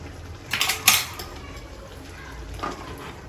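A spoon clinks against a pot while undhiyu mixture is stirred, two quick metallic knocks followed by a softer scrape, close with quiet background and no talk.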